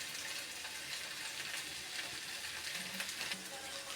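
Poppy-mustard paste being stirred into a pointed gourd curry in a pan, a faint continuous sizzle with soft scraping and stirring, no talking.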